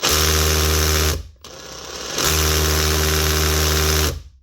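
A Makita DHP243 SDS+ drill with a fault in its hammer action runs loud and close in two steady motor bursts, separated by a brief pause and a quieter whirring stretch before it spins up again.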